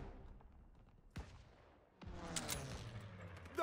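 Rapid bursts of gunfire in the video game Call of Duty WWII crackle close by, with sharp broadband cracks and a dense barrage of overlapping shots in the second half, no voices.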